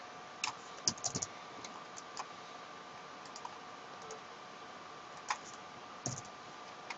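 Typing on a computer keyboard during Photoshop work: sparse, quiet key clicks in short irregular bursts against a faint steady hum.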